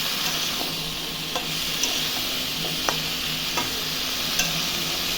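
Mixed vegetables cooking with turmeric and salt in a pan, a steady close sizzle with light, irregular taps and scrapes of a spoon as they are stirred.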